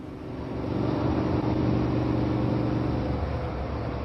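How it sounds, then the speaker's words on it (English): A Triumph motorcycle cruises along a countryside road, its engine a steady, close droning rumble with a slight swell as it pulls, rushing wind over everything and no one speaking. "I'm riding through this beautiful countryside on a Triumph"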